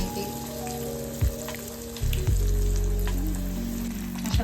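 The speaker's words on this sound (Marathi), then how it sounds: "तेल छान गरम झालेलं आहे आपलं, त्यामध्ये मी ते सर्व टाकून घेते एक।" Breadcrumb-coated boneless fish fingers sizzle and crackle in hot oil, a steady loud frying hiss with a few sharper pops and bursts as pieces settle, heard close with no talking.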